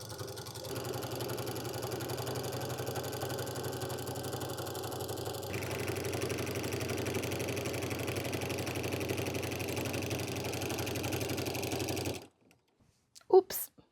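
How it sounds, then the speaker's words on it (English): A domestic sewing machine runs steadily while stitching wavy lines on a baby quilt, a continuous close whirring hum that stops abruptly near the end, followed by a couple of small clicks. "I'm just gonna keep sewing those little wavy stitches."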